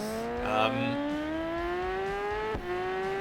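Motorbike engine in the Isle of Man TT 3 racing game, revving steadily with a rising harmonic whine that climbs in pitch over about three seconds, with a brief dip near the end as the gear shifts, loud and close.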